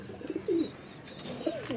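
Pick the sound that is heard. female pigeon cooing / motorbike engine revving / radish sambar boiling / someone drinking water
female pigeon cooing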